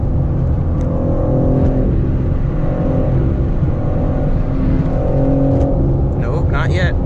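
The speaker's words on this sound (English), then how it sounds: "We're driving a G80, man." A 2022 BMW M4 Competition G80 driven at night, its engine a loud steady drone with tonal rises and falls as it pulls, heard from inside with a voice speaking over it near the end.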